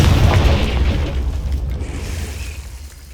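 A Confringo explosive spell blast in Hogwarts Legacy booms loudly at once, then rumbles and fades over a few seconds, with no talk over it.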